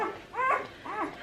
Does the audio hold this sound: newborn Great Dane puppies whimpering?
yes